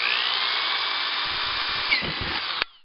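A power drill with a 3/32 bit whines at a steady high pitch while boring a hole in the top of a plastic cap, the bit grinding briefly before the motor abruptly cuts off.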